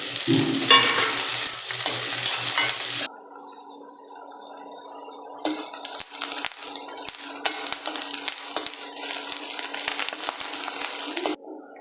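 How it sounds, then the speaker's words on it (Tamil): Onions and dried red chillies are sautéed in a pan for country chicken fry. A loud sizzle opens and drops away sharply, then returns as a quieter frying hiss with scattered scrapes and clinks of stirring. "பெரிய வெங்காயம், அதுக்கப்புறம் காஞ்ச மிளகாய் போட்டு நல்லா வதக்கிட்டு"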